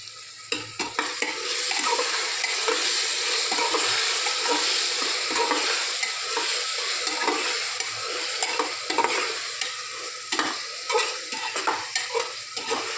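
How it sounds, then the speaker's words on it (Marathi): Onion, tomato, peanuts and coriander saute in a pan for masala khichdi, a loud continuous sizzle broken by frequent scraping and stirring of a spoon against the pan. "मी कांदा, टॅमॅटो, शेंगदाणे, कोथिंबीर असं परतायला टाकले"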